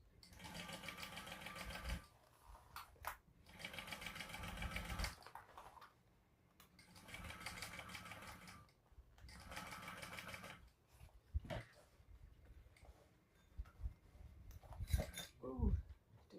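Sewing machine top stitching a fabric bucket bag, its fast rattling stitching running in several bursts of a second or two separated by pauses and small handling clicks, close and fairly quiet.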